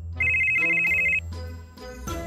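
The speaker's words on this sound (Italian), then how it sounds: "il mio cellulare suona" Mobile phone ringtone ringing loud and close in a kitchen setting, a steady high electronic tone held for about a second, followed by a short melodic sequence of chiming notes.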